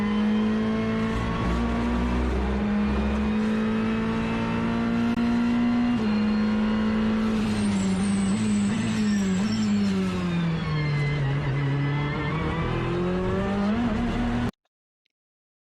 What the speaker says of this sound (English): Did you guys hear the TC there? Listen, it's like a brrr. It's not a crackle.